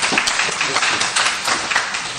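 An audience at a World Bank panel in Côte d'Ivoire gives sustained applause, dense overlapping claps throughout at fairly loud level.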